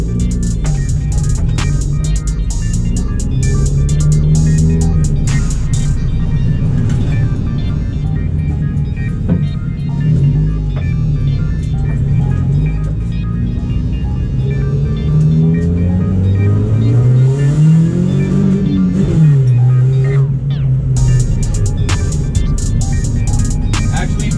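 A car fitted with a nitrous kit cruising on the highway, its engine droning and rising and falling in pitch inside the cabin, with a person talking over it.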